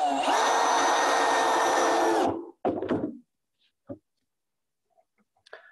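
Power drill driving screws into wooden raised garden bed boards, one long steady whirring run followed by a short second burst and a few small knocks, close by.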